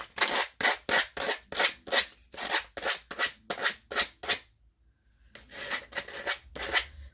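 Sandpaper rubs back and forth on a craft piece in steady, rhythmic strokes, about a dozen rasping passes close up, then a short pause before several more strokes resume.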